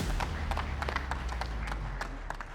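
A conference audience bursts into dense, steady applause to welcome a sales director onto the stage for an industry panel, the clapping close and even throughout with no talking.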